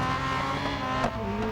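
A Ferrari 458 Spider races in Real Racing 3, its engine a loud, steady, continuous drone with no break, a brief surge near the end hinting at a shift or tire squeal.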